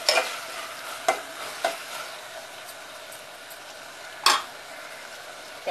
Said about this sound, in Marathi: आता आपण ह्याच्यामध्ये डाळ टाकणार आहोत भिजवून घेतलेली. मस्त मिक्स करून घ्यायची.